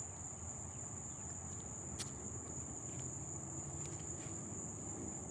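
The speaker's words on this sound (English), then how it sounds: "I just hear crickets now." Steady, high-pitched cricket chirping fills a quiet night, a constant faint trill with no other sounds.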